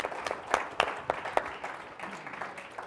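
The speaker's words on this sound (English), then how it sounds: "would you please clap for that?" Conference audience applauds a speaker's announcement, a thin, scattered round of clapping with several distinct loud claps standing out early, then tapering to lighter patter.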